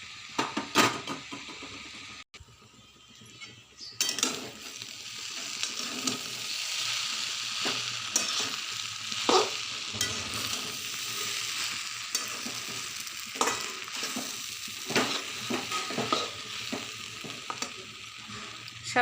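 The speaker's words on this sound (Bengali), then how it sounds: "ডিমটা যে ভেজে রাখছিলাম, ডিম আর ফুলকপি, ওইগুলো এখন দিয়ে দেবো, সঙ্গে গাজরও আছে" Boiled vegetables, fried egg, cauliflower and carrot stir-fried in a pan, a continuous moderate sizzle broken by repeated scraping and tossing clatter.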